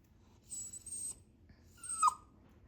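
A dog whines indoors in two thin, high-pitched whimpers, the second rising then sliding down, close by and quiet against a near-silent background.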